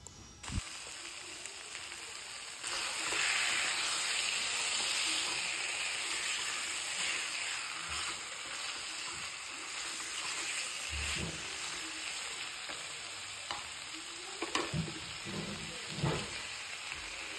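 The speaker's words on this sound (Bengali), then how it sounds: "আমি এখন গোটা রসুন আর চিকেনগুলো দিয়ে দেব।" Whole garlic and chicken drop into a pan of spice paste being fried for Bengali chicken curry, giving a steady, moderate sizzle with intermittent clicks and scrapes of a utensil and no talking.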